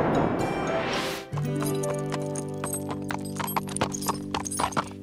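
A horse's hooves clip-clop at a walking pace in a steady, close series of hollow knocks, with a faint rising swish at the start.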